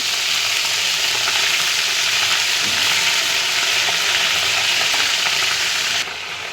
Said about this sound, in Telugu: ఇందులో అల్లం వెల్లుల్లి పేస్ట్ వేసుకుందాం.